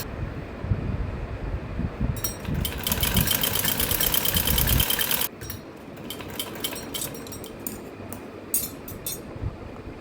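A sewing machine stitching a salwar runs with a fast, steady mechanical whir for several seconds, then stops and gives short bursts of stitching with clicks in between, close and clear.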